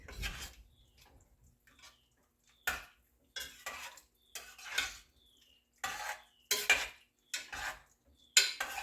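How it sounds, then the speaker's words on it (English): A spoon stirring beans into minestrone soup in a pot, a series of close metallic scrapes and clinks in irregular bursts separated by short quiet gaps. "I'll stir that up and see what it looks like."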